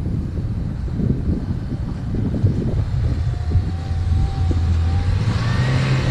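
A car grinds up a snowy slope on an off-road test, either an Audi 100 quattro or a Chevrolet Niva, its engine droning and revving steadily while stuck wheels spin, with wind rumbling across the microphone and no talking.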